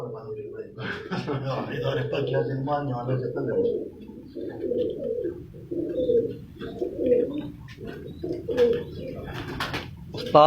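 Breeder pairs of Sharmila and Teddy pigeons on a rooftop coo in soft, repeated rolling calls, close by, mixed with someone talking over them.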